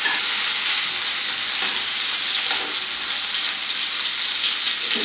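Pork sears loudly in a pan with garlic and thyme sprigs tucked beneath it while being basted, a dense, steady sizzle that runs throughout with no pauses.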